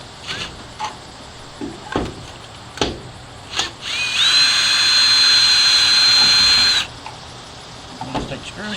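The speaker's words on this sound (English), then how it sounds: "you'll need a long bit on your drill because the rain covers on these make it" A power drill with a long bit whirs steadily for a few seconds as it backs screws out of the rain-covered emergency light housing on a school bus, with scattered clunks and handling noises around it.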